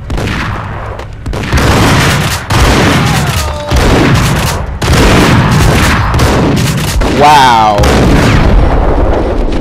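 Gunfire in the video game Max Payne, with loud repeated shots and heavy booms in rapid bursts, while a player talks over the action.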